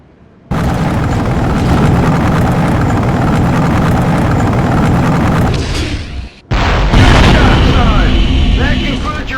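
In the war video game Conflict Desert Storm 2, sustained heavy weapon fire and explosions hammer a tank's rear armor, loud and continuous, breaking off briefly before another thunderous burst.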